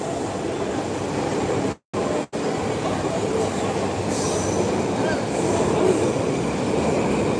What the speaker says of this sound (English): wow, that train is loud. Nice honk before it comes into the station.